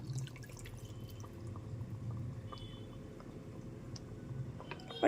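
Water from a rinsed mustard-paste bowl trickles into a pan of mustard hilsa curry, a faint, soft dripping and pouring that runs steadily for a few seconds with no voices.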